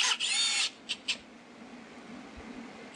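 A Delta drill press boring holes and counterbores in wood, a short high whine of the bit cutting for about half a second, then two brief bursts, followed by a quiet hum of the running machine.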